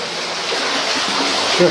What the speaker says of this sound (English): There's a bit of water running down here.